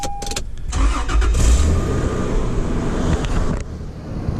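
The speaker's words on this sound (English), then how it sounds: "I'll give them a quick cold start." A 1993 Toyota Land Cruiser or 1994 Subaru WRX imported from Japan cold-starts: a brief cranking burst, then the engine catches and settles into a loud, steady idle close by, with no talking.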